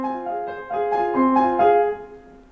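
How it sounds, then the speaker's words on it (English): A symmetrical six-note musical figure opens Amerasiopia, a composition by Mohammed Fairouz: sustained, overlapping pitched notes enter one after another and ring together at moderate volume, with no voices. "The initial setup of Amerasiopia is through this symmetrical 6-note musical figure."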